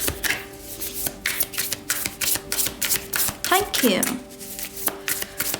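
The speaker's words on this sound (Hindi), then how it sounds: "तो चलिए शफल कर लेते हैं मीन राशि पाइसेस साइन के लिए।" Tarot cards shuffled by hand in quick riffling bursts, close and crisp, repeating rhythmically while a person speaks briefly over them.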